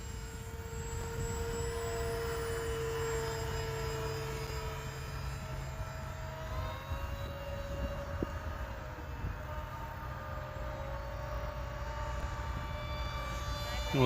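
A Hobbyzone Aeroscout RC plane flies overhead, a thin, steady motor whine that holds its pitch and then dips and shifts as the plane turns, heard against an even outdoor background.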